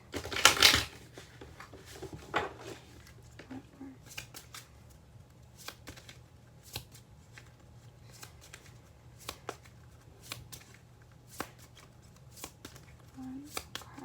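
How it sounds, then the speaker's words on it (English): Oracle cards shuffled by hand, a loud riffle at the start followed by scattered soft taps and flicks of cards over a quiet room hum, with no talking. "I'm going to pull one more oracle card"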